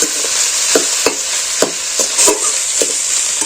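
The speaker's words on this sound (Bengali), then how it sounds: "আবারও এটাকে আমি নেড়ে চড়ে ভেজে নিচ্ছি" A spatula scrapes and stirs grated carrot filling with fresh coriander in a hot frying pan, steady sizzling throughout with a series of rhythmic scraping strokes, close and loud with no talking.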